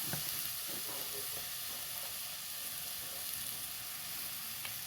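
Papaya curry cooks in a pan and is stirred, giving a low, continuous sizzle and hiss with a few faint utensil scrapes, all fairly quiet and unbroken by talk.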